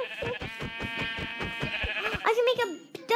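A sheep in Minecraft bleats in a series of quick wavering calls, loud and close, with a person talking over the end.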